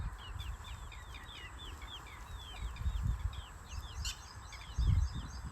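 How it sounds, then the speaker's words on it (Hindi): Chickens and roosters on a small farm give faint, rapid clucks and chirps that repeat steadily over a low, rumbling outdoor background with occasional thumps. "तो अभी मेरे वहाँ मुर्गे भी है और काफ़ी ज़्यादा है, देख सकते हैं।"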